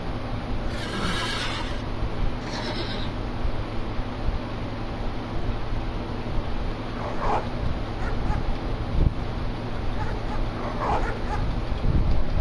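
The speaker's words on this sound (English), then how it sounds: "We got the little dog out here by itself." In a video game, a small dog yips and barks a few times over a steady bed of noise and ambient game sound, with a soft whimper in places.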